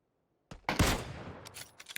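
A single sharp gunshot from a battle royale esports match, a headshot, bursting out of near silence followed by a brief echoing tail and a few quieter clicks, close and clear.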